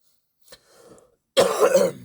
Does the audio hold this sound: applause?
no